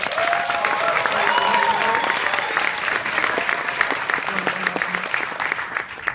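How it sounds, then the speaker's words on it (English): Audience applause at a UCLA leadership conference as a volunteer comes up, a loud dense crowd clapping that holds steady and then thins toward the end, with a few voices calling out faintly beneath it. "Give her a big round of applause, please."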